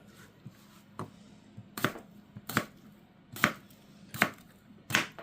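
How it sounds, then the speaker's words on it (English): Knife chopping potatoes into chunks on a cutting board, a series of crisp, evenly spaced chops about one per second, close and clear with no talk. "And then cut that into chunks."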